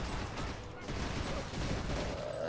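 Gunfire from the dark first-person shooter NecrovisioN, a dense, continuous barrage of shots blending into a loud, rumbling battle din with no pauses.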